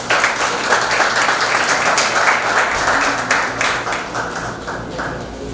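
Strong, sustained applause from the audience at a university research presentation at the Universidad de El Salvador's Facultad Multidisciplinaria Oriental, dense and steady throughout, easing slightly toward the end.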